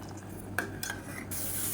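Barley porridge coming to a boil in a pot on the stove makes a soft, steady bubbling hiss, with a faint scrape or clink of utensils partway through.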